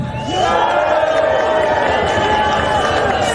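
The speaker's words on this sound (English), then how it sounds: "can we have a loud cheer?" Crowd at a clean water march giving a loud sustained cheer and whoops, many voices close and far blending into a dense roar that holds steady for several seconds.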